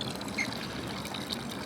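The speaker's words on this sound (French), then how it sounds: "on a trouvé une petite fontaine" Water from a small roadside fountain runs steadily into a bucket, a continuous close splashing pour with a bright broadband hiss and no voices.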